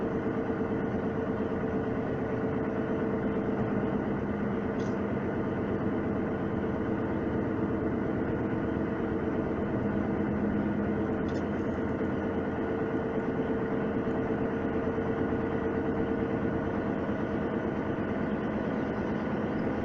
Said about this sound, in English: the noise you're hearing is the tires that's on the new set